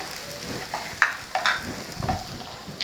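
Chopped cabbage, green chilli and onion stir-fried for chicken noodles, with a soft steady sizzle and a few sharp scraping stirs of a spatula close by, no talking.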